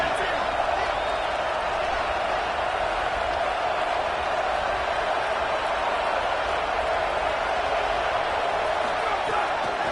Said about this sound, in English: Man, is this place loud right now. The Cowpoke faithful bringing it on 3rd down.